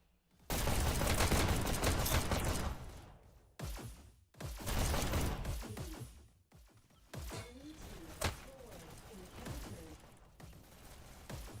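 SMG gunfire during a competitive Free Fire match, loud, dense bursts of rapid shots broken by short gaps, close and harsh, with scattered impacts and game effects.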